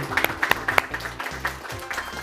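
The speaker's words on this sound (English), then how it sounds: "Perrywood, round of applause over there for them, too." Light, scattered clapping from a small audience at an elementary science bowl competition, a few sharp claps then thinning out, with some voices underneath.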